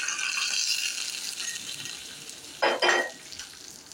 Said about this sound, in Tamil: நம்ம அப்படியே சட்னியில் எடுத்து ஊற்றிக்கணும்.